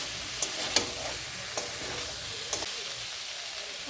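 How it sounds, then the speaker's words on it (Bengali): Fried soybean chunks and potatoes sizzle in a pan as a vegetarian curry is stir-fried, a steady close frying hiss broken by a few sharp scraping clicks of a spatula. "এখন আমি ভেজে রাখা সয়াবিন আর আলুগুলো দিয়ে দেব।"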